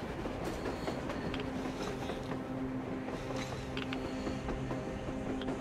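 Steam locomotive moving in the video game Metro Exodus: a steady low rumble of rolling wheels with metallic creaks, clanks and faint hums, continuous and moderately distant.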